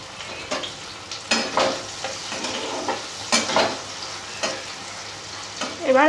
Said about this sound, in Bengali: এবার আমি এর মধ্যে দিয়ে দেবো পেঁয়াজ কাঁচা লঙ্কা